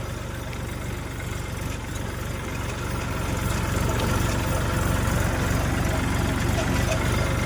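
A tractor engine idles with a steady low rumble, growing slightly louder midway and holding a constant chugging drone.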